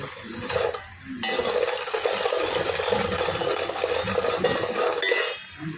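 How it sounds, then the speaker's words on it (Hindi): A spoon stirring sugar into water in a pan to make syrup, heard as steady metallic scraping and clinking for several seconds, close and moderately loud. "ये देखिए मैं डालकर मिक्स कर लेती हूँ"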